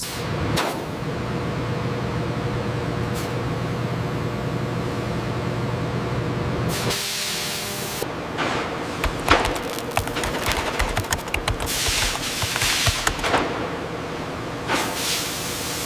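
Steel pipe passing through a high-frequency induction welding coil in a mill, its edges heated to 2600°F. A steady, loud industrial drone with broadband hiss runs throughout, broken by sharper bursts and crackles in the second half.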